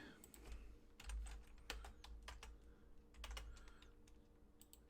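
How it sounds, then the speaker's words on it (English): Stock tickers being typed on a computer keyboard, with irregular quick bursts of key clicks over a low steady hum, close and quiet, with no speech. "So I'm just going to go right over here and just type them in, right?"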